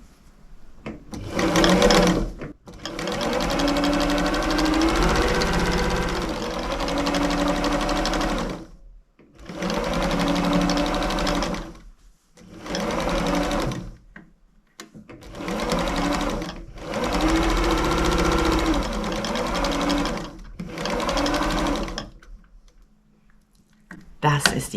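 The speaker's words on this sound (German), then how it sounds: "Und wir nähen." A sewing machine stitches the first seam of a triangle patchwork quilt binding at 2.5 mm stitch length, running in several loud sustained bursts separated by short pauses.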